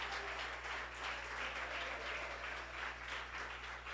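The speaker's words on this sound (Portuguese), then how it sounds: "Aplauda Jesus." Continuous applause from a church congregation at a New Year's Eve service fills the clip, even and sustained, over a low steady hum.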